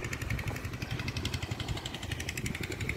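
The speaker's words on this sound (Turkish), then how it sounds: "Motorun sesini duyuyorsunuz." A water well pump motor runs with a rapid, steady mechanical chatter, constant and moderately loud, with no voices.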